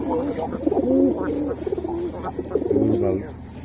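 Pigeons at a bird market coo in overlapping low, throaty rolls with a few soft flutters, close by, while people talk nearby.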